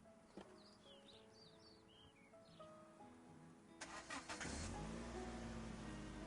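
A repaired car's engine cranks and catches about two-thirds of the way through, then settles into a loud, steady running rumble, after earlier quieter ambient noise with a few faint chirps.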